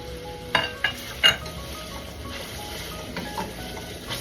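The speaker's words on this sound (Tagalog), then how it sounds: "Ilagay na rin po natin yung ating bagoong alamang." Bagoong alamang shrimp paste sizzling in a pan with pork while being stirred: a soft continuous fry under a few sharp utensil clinks and scrapes near the start.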